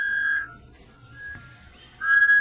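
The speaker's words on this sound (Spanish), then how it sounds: "Thomas hizo sonar su silbato lo más alto que pudo." A steam locomotive whistle in a children's train story sounds two bright tonal blasts, one at the start and a louder one at the end, with a fainter tone between them.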